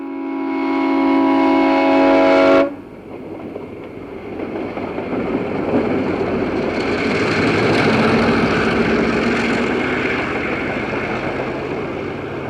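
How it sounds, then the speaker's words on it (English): A westbound Amtrak passenger train sounds a brief horn blast, then rumbles past with a steady, broad roar of wheels and rushing air that gradually fades. "a second Amtrak westbound heads for Chicago"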